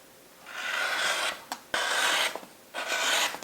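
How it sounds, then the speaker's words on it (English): Fabric edges of a Sawtooth Star quilt block being trimmed, heard as three loud, close rasping passes separated by brief sharp clicks. "I'm just going to trim off those"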